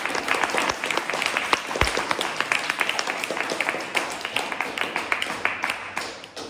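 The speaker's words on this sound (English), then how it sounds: "Let's give him a round of applause." A small live audience claps for a guest, a brisk burst of individual claps close by that stays steady before easing off, with no talk over it.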